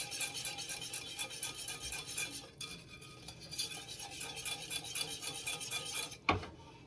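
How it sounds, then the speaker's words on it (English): A whisk scrapes and stirs a béchamel sauce seasoned with salt in a pan, a steady close-up rhythmic swishing and metallic rasping that continues without pause, ending with a single louder clink. "we're going to just whisk that up"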